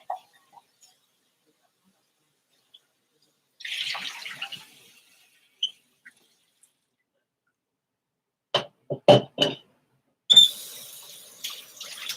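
Tap water runs into a container being rinsed out, with a short splash early on, then several sharp bursts of water and a final longer rush, close up with silent gaps between and no talk.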